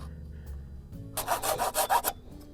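A saw cuts bamboo at a 45-degree angle for a garden fence, giving about a second of quick, rhythmic rasping strokes, close and fairly loud, after a quiet start.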